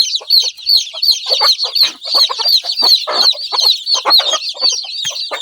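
Hens clucking steadily up close on a poultry farm, a busy run of short, scratchy clucks and squawks with no talking.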